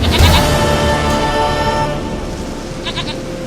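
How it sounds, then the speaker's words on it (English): A goat bleats in The Witcher 3, its wavering cry loud and close at the start, then fading into a steady game ambience with a few faint, brief bleats near the end. "Goat of mine! Dearest,"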